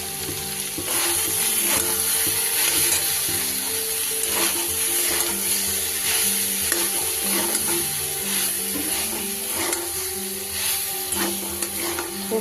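Soybean masala with rock salt being fried and stirred in a pan: steady sizzle under repeated rhythmic scraping and clattering of a spoon against the metal, loud and close, with no voices.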